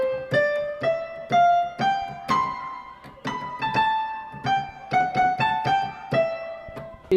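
Beginner piano rendition of a melody played from the G above middle C, single clear top notes struck one after another in a stately rhythm, close and alone.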